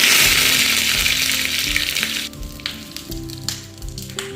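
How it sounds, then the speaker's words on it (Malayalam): Mustard seeds, dried red chilies and curry leaves sizzle loudly in hot coconut oil, a steady close-up crackle and hiss with a few sharper pops and spits as each addition hits the pan. "ചൂടായ വെളിച്ചെണ്ണയിലേക്ക് ആവശ്യമായ കടുകിടാം. ഇനി അതിലേക്ക് വറ്റൽമുളക് ഇടാം. ഇനി കറിവേപ്പില ഇടാം."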